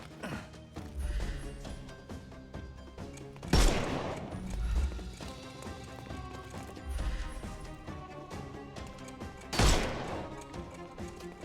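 Rifle gunfire in a Sherlock Holmes video game: two loud sharp shots a few seconds apart stand out over a busy bed of game music and effects, with no voices.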